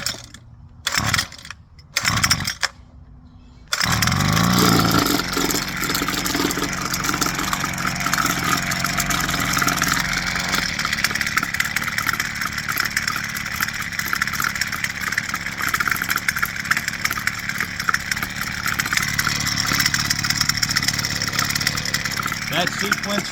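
A new Husqvarna 330LK string trimmer engine starts after a few pulls, then idles and warms up with a steady, close two-stroke putter.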